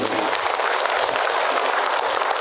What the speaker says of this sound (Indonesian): Tepuk tangan buat Bayang.